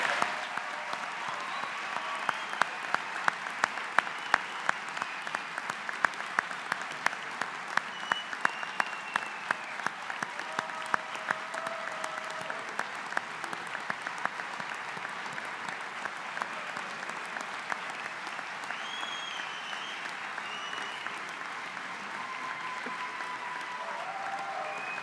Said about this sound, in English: Let's give them one more final round of applause.